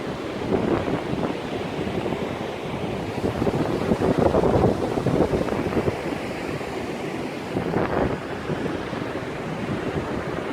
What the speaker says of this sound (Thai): ด้านหลังเป็นทะเลนะครับ